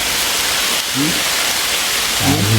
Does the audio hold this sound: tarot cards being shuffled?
no